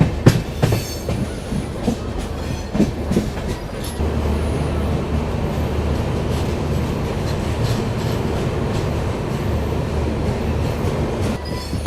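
A train rumbles and clatters at Rangia Junction near the Shatabdi Express, with sharp wheel clicks and squeals early on, then a steady loud rolling rumble.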